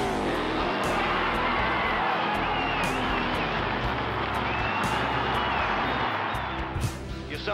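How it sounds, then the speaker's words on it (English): A large stadium crowd roars continuously before Evel Knievel's motorcycle jump, a loud, dense wall of cheering that holds steady, with a few sharper bursts near the end. "Crowd cheering in anticipation."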